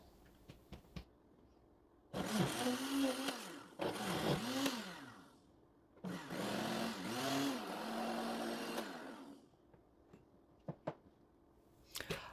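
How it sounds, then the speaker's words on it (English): A blender whirs loudly in two bursts of several seconds each, its motor pitch dipping as it purees wet paper pulp with water for seed paper, with quiet clicks between. "add a few cups of water and turn the blender on"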